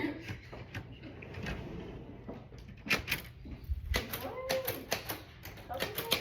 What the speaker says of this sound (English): Still sitting at the typewriter.